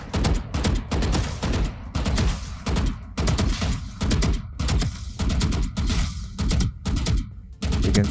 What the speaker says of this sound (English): if I stop and I start shooting,